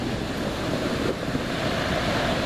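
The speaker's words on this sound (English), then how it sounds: "The sound of the ocean and the water." Continuous roar of ocean surf on a California beach with broad, rushing wash and some wind noise buffeting the microphone, no voices.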